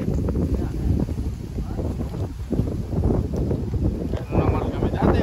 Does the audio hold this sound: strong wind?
yes